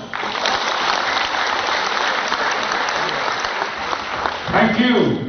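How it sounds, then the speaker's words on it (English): Audience applause fills an oath-taking ceremony for real estate practitioners in Cebu, a steady dense clapping from a large crowd throughout, swelling slightly near the end. "Why don't you give ourselves a round of applause?"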